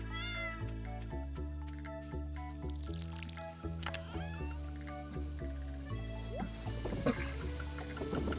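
A cat in a video game meows several times over stepping background music, with squishy dripping water effects scattered between the calls.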